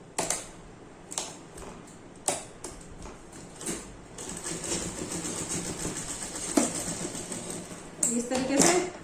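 A sewing machine stitching the collar of a kurti runs in short bursts and then a longer steady whirring run. There are clicks and handling sounds between the bursts, and someone talks over parts of it.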